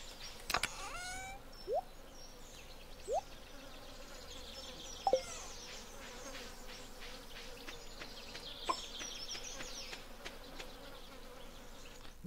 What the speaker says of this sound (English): Never noticed how many bees sounds there were